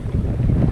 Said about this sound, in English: and very windy, obviously.